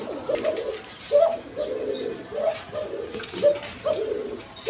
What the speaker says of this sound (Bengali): দর্শকবৃন্দ এইখানে এক পেয়ার রাজগোল্লা কবুতর আছে